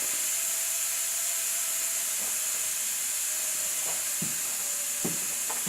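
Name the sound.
steam released from pressure cooker cooking beans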